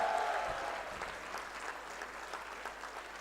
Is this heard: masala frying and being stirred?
no